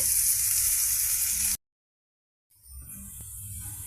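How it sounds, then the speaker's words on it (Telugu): Large onion pieces fry in a pan with a loud, steady sizzle that cuts out to complete silence for about a second, then resumes a little quieter with a soft stirring knock. "పెద్దల్లిపాయ తీసేసి కొద్దిగా ఫ్రై అవనిద్దామండి."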